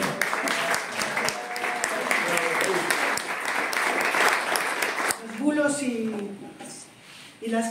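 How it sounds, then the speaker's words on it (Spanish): Audience applause at a community arts event, a sustained crowd of clapping for about five seconds that fades as voices and singing-like tones take over. "Pido un fuerte aplauso."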